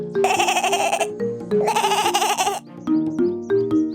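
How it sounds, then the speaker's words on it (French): A hungry little goat bleats loudly and close by: two long, wavering cries followed by a few shorter ones, with no talking. "une petite chèvre affamée apparut devant la jeune fille."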